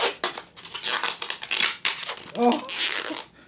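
Plastic protective film being peeled off the pickguard of a Jackson LM-87 electric guitar, crackling and tearing in uneven bursts close to the ear, with a voice briefly reacting over it.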